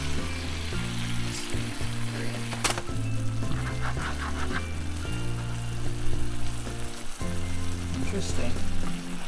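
Canned tuna hamburger steak sizzling and crackling steadily in a hot pan, with a low musical backing underneath and occasional soft clinks.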